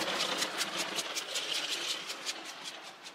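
A Mammotion Luba 2 robot lawn mower is driven by remote control at about 1.2 km/h. It gives off a low mechanical hum with evenly spaced rhythmic pulses at moderate distance.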